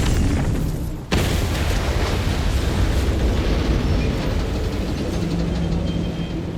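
A dull, rumbling blast in the video game Doom The Dark Ages, a single thump followed by a continuous loud roar of noise that holds steady for several seconds with no voices.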